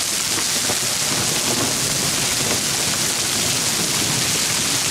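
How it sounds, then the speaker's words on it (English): Dense, steady pelting of hail just under half an inch during a storm in Guardian, West Virginia, a continuous loud roar of impacts with no pauses, close by and unbroken throughout. "So far it's just about a little less than ½ inch hail."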